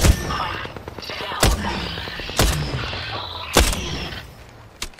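Loud gunfire in the Apex Legends battle royale on Storm Point: several sharp, heavy shots spaced about a second apart over continuous mechanical game noise, with players talking in between.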